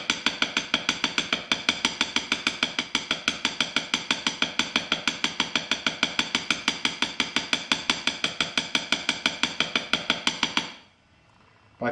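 Hammer tapping a dent out of a Remington Whitmore lifter gun barrel set on a mandrel: a fast, steady run of bright metallic taps, close and even, lasting about ten seconds before stopping.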